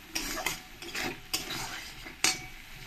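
Masala spice paste frying in oil and being stirred for a fish curry, with a spatula scraping the pan in irregular strokes and sharp clinks over a soft, steady sizzle.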